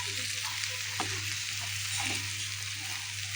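Okra and shrimp fry in a pan over a low flame with a steady, close sizzle, broken by two brief scraping stirs of a spatula, under a constant low hum.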